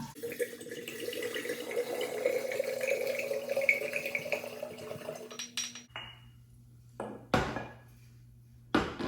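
Wine is poured into a glass to start a sangria, a steady liquid stream that gurgles for several seconds and then stops, followed by a few quick clinks of glassware.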